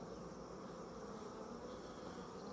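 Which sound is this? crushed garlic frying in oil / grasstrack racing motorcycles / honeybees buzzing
honeybees buzzing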